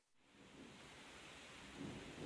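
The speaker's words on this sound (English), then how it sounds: "I'm glad the rain started when it did." Steady rain falls with the low rumble of a thunderstorm, a soft continuous wash that swells slightly toward the end, heard alone without voices.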